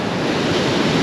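Big sea waves roll in on a beach at South Withernsea, a loud, close, continuous surf rush with wind buffeting the microphone.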